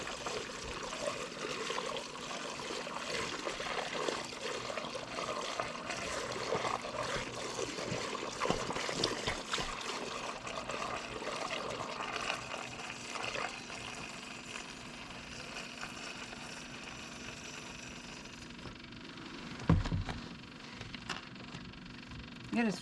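Water pouring steadily into a tractor bucket outdoors, a continuous faint trickle and splash with a louder splashy burst near the end; a person talks now and then.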